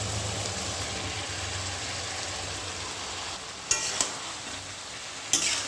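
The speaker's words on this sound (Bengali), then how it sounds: "কাঁঠালটা কষানো হচ্ছে" Boiled jackfruit sautés in a pan with ground spices while it is being cooked down, giving a steady, even sizzle and hiss close by, broken near the end by a few sharp clinks from a utensil.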